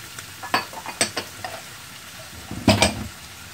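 Shrimp frying in a pan for pasta, a low crackling sizzle broken by clinking taps of a utensil against the pan, one louder burst of sizzle near the end, close and with no talk.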